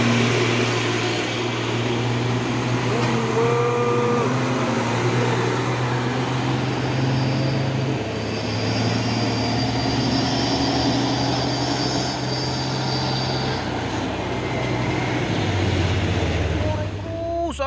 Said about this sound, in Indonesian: Sama truk trailer muatan apa ini paku bumi.